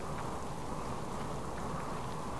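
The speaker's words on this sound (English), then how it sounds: "I wish this rain would go away." Rain falls outdoors on a dreary, wet day as a steady, even hiss that continues without pause, with no voices.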